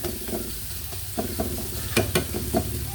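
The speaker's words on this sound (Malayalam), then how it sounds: "ഇപ്പോൾ ചുവന്നുള്ളി വെളുത്തുള്ളിയും കൂടി ഫ്രൈ ആക്കുന്ന ഒരു പരിപാടിയാണ്" Shallots and garlic frying in a pan, a steady close sizzle with several crisp stirring scrapes and clinks over it, and no talk.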